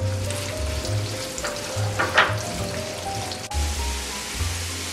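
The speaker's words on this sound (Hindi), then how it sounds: "अनियन को लाइट ब्राउन करना है, यानी कि फ्राई करके हल्का गोल्डन कलर लेकर आना है" Onions fry in hot oil in a kadai, a steady bright sizzle with brief scraping stir strokes and low rumbling gas-flame noise underneath, heard close up without any talking.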